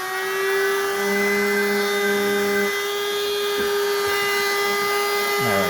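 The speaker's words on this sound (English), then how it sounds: "Okay, I'm going to turn on my welder here." Welder used for soldering automotive wires, powered on with a steady tonal hum and whine that holds throughout, with a lower buzz in the first half, close and fairly loud, no talking.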